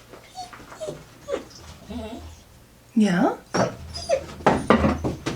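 A puppy whimpers and yips in short high whines mixed with soft growly noises, close by, while someone talks to it.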